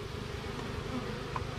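Agitated honey bees buzz around an open hive at a farm, a faint, steady, dense drone of many wings with no voices over it.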